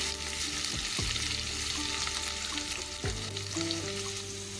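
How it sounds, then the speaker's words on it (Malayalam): Crushed ginger, garlic and fenugreek seeds fry in hot oil for a Kerala-style fish curry, giving a steady close sizzle broken by a few stirring sweeps through the pan, with no talking. "ഇഞ്ചി വെളുത്തുള്ളി ചതച്ച് വെച്ചിരുന്നത് അതുകൂടി ഇട്ട് കൊടുത്ത് അതുകൂടി ഒന്ന് മൂപ്പിച്ചെടുക്കാവേ"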